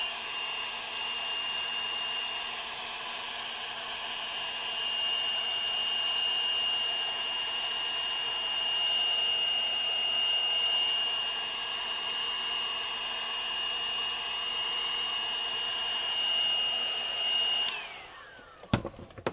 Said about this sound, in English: Bust out the old heat gun. Heat her up.